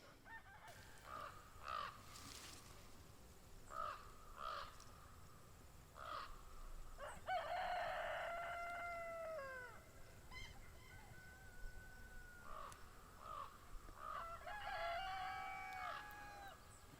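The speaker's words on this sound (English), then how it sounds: "The crow is flying away very unhappy." Crows caw repeatedly in short bursts over a farm where chickens are kept, with harsher calls from a bird flying off and faint background fowl; the calls come moderately near against a quiet outdoor backdrop.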